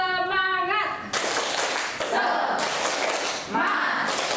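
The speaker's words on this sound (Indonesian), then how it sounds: "yuk kita kasih kalian tepuk semangat untuk kalian semua. Yuk, tepuk semangat." Several loud bursts of group hand clapping ring out for a spirit-boosting cheer in an Indonesian school guidance lesson, right after a short stretch of voice.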